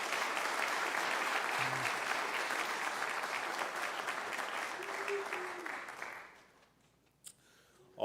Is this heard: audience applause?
yes